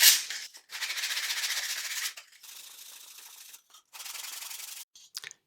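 Wet and dry sandpaper scrapes the edges of small model train carriage parts in several close bursts of steady rubbing, separated by short pauses, with a few quick strokes near the end.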